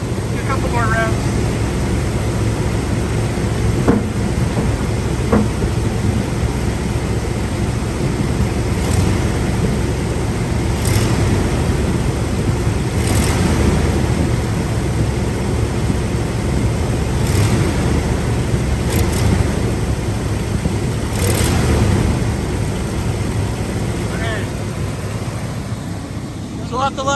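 A 1985 Chevy Suburban C20 engine idling steadily while warming up with the choke out of adjustment, a constant low rumble throughout with occasional clicks and talk nearby.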